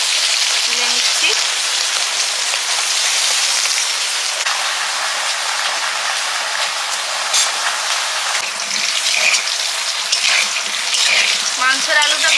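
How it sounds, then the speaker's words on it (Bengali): Heavy rain pours down in a steady, dense hiss that holds for about twelve seconds, with a few faint clinks and knocks from nearby cooking. "মুষলধারে একদম বৃষ্টি হচ্ছে"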